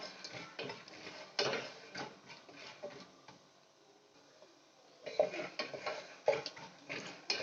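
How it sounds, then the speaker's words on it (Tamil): Corn kernels popping in a pressure cooker: irregular sharp pops and ticks burst out in clusters, close by, with a quieter lull in the middle before the popping picks up again. "இப்போ இந்த சோளம் வந்து நல்லா பொரிய ஆரம்பிச்சிட்டு"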